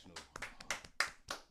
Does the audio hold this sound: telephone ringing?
no